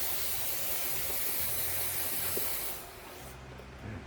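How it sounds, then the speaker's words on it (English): Brake cleaner sprays from an aerosol can onto air-cooled VW engine parts and bolts, a close steady hiss lasting nearly three seconds before it cuts off to quiet. "I've already gone through a couple cans of brake cleaner."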